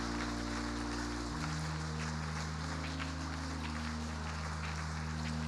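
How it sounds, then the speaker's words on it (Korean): Sustained applause from a large church congregation during a Sunday worship service, a dense continuous wash of clapping over low held organ-like tones. "우리 저 자리 뒤로 갈 때까지 힘차게 박수 쳐주셨으면 좋겠습니다"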